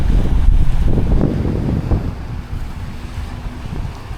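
Strong wind buffets the microphone aboard a boat at sea, a steady roaring rush with low rumble and some wave wash beneath, continuous and fairly loud with no talk.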